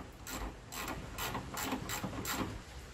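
Ratchet wrench loosening a starter solenoid bolt on a Dodge Polara with a 318 Mopar engine, giving about six quick bursts of clicking at a steady rhythm, close and moderately loud.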